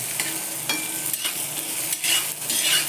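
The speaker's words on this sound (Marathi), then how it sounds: "दोन उकडलेली अंडी आहेत परतू देते चांगलं" Boiled eggs being sautéed with onion and tomato in a pan for anda ghotala, a close sizzle broken up by repeated scraping strokes of a spatula, with no speech.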